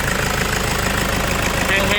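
The 2.5-litre diesel engine of a 2012 Toyota Commuter van idles with a steady, loud, rough rumble that carries on evenly throughout, with no talking over it.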